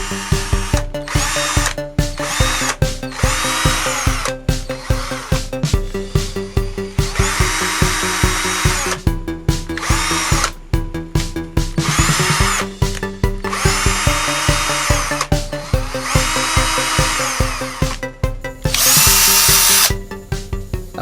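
A repaired NORITA NRT DC-330 cordless battery drill, previously dead and not spinning, whirs in repeated close, loud bursts that rise and fall as its speed changes, with brief pauses between runs and no talking.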